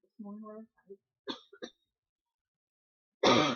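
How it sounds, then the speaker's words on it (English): Some brief throat sounds, then a single harsh cough bursts out loud and close at the end. "I apologize, that made me cough."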